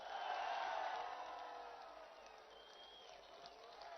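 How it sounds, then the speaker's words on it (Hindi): Large outdoor crowd at an Eid ul Fitr rally for Imran Khan at Zaman Park, Lahore, clapping and cheering in a dense, sustained roar that is loudest at the start and then eases to a steady wash. "सब हाथ उठाकर तालियों की गूंज पे बताइए,"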